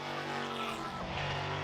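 Lola T70 big-engine sports cars race at Brands Hatch during a Masters Festival, a loud, close engine roar with a rising, shifting pitch as a car blasts past.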